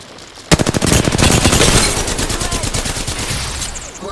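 Automatic gunfire in the video game Apex Legends bursts in loud and sudden, a rapid stream of shots that holds for a couple of seconds before tailing off, with game sound underneath.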